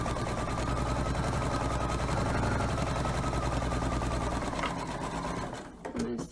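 Sewing machine stitching a memory pillow made from a shirt, a close steady whirring rattle running continuously before slowing and stopping at the end.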